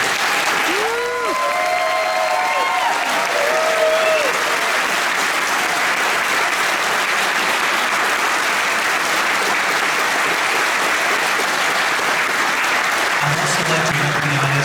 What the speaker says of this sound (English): So how about a big round of applause for the students?